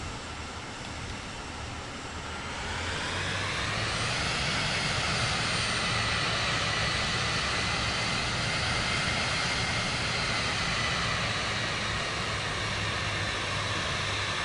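An airplane engine in Microsoft Flight Simulator 2024 spools up for takeoff with full flaps set, a loud sustained roar that swells over the first few seconds and then holds steady and close, with no voices.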